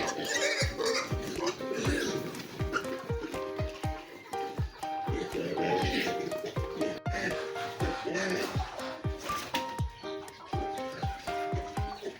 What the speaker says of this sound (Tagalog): Susunod naman nating pakainin itong mga maliliit na baboy.